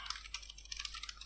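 Rapid typing on a computer keyboard while entering HTML code, a steady run of close, light key clicks with small irregular bursts and no voices.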